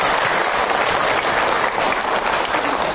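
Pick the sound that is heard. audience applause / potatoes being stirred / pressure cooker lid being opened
audience applause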